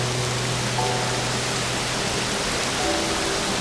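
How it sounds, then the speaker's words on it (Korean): Rain falls as an even, continuous hiss at moderate volume, with a few faint tones underneath and no voices. "비가 오게 되면 그 빗소리가 백색 소음으로 가장 좋은 소리거든요"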